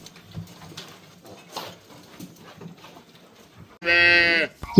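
A single loud cow moo rings out near the end, following quieter rustling and faint bird cooing in the background.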